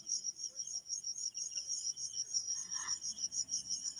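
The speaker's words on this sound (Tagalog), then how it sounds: "Oo, nagpa-party yung mga kuliglig dito." Crickets chirp at Mangyan Village in a steady, rapidly pulsing high trill that carries on without a break, fairly quiet and close, with no voices over it.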